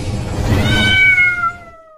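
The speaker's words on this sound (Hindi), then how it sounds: "जैसे ही उस छोटी बिल्ली ने म्याऊ किया" A small cat gives one loud, close meow that rises and then fades out over about two seconds, with no talk over it.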